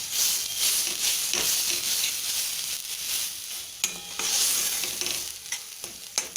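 Thick green banana peel paste sizzling in a hot wok while a utensil scrapes and stirs it, with a few sharp knocks against the metal toward the end.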